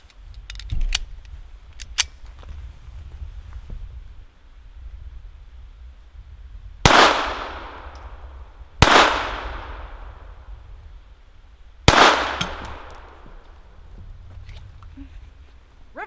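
A new-production Walther PPK/S pistol fires three loud, close shots of PPU 94 grain ammunition, about two to three seconds apart, each a sharp crack with a ringing decay, after a few faint clicks and handling sounds.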